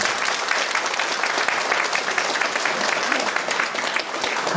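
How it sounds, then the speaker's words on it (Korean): Guests at a wedding ceremony give the groom's father a steady round of applause, many hands clapping evenly for several seconds with a slight dip near the end. "신랑 아버님께 큰 박수 부탁드립니다"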